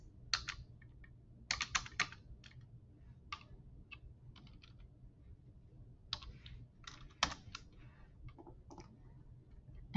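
Typing and mouse clicks while filling out a DocuSign form: quiet, close, irregular bursts of keystrokes and clicks over a faint background hum, with no talk.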